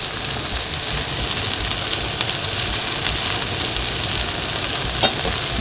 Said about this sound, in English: now that you see that your Brussels sprouts are seared on the flat side